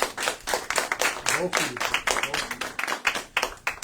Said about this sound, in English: I gotta give a clap now.